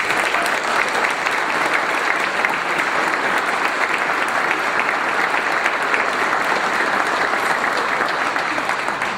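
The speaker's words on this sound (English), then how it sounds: "Let's give one more round of applause to our outgoing chief, Brian Miller." An audience gives a steady, loud round of applause for an outgoing police chief at a press conference, dense clapping that holds evenly throughout with no break.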